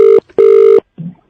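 Telephone ringing in two loud electronic bursts, a short ring then a longer one, each with a steady tone, followed by a brief low murmur.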